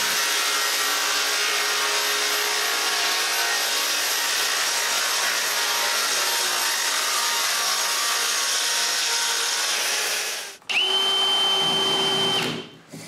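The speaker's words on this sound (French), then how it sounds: "Après, je peux visser la première partie du fond à sa place." A power drill whirs steadily for about ten seconds as it drives screws into the wooden back panel of a nine-drawer dresser, then pauses and starts again in a shorter, higher-pitched burst.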